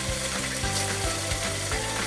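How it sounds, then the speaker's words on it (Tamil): Large onions sautéing in a pan as the base of a Tamil sankara fish curry: a steady close sizzle with light clicking and scraping from stirring, no voices. "வெங்காயம் நல்லா வதங்கிடுச்சு"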